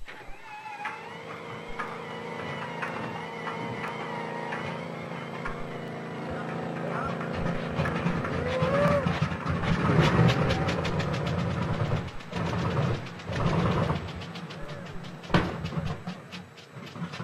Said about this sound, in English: Now it's time to start an engine.